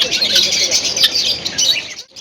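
Many colourful birds and parrots chirp and squawk continuously in a dense, loud chorus close by, with a brief dip near the end and faint talk in the background.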